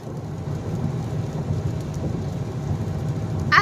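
Steady heavy rain roars with a low rumble of thunder underneath, continuous and fairly loud, with no talking.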